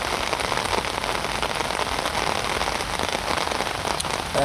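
Heavy rain falls continuously on surfaces near a carp fishing spot, a dense, even patter that holds at a steady loudness throughout, with no talking.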